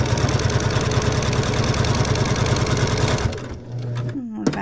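A sewing machine runs steadily while stitching a beginner pinwheel quilt, with a rapid even chatter for about three seconds before it stops, leaving quieter handling noises and a short clunk at the end.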